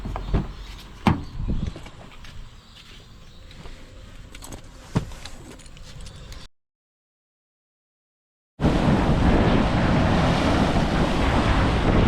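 Ocean swell breaks against the Mooloolaba rocks at high tide with a little wind, a rushing wash of surf and buffeting gusts, cut by a stretch of silence before a louder, continuous roar of waves.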